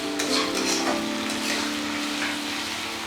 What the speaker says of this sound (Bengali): টমেটোটাকেও ভালোভাবে কষিয়ে নেব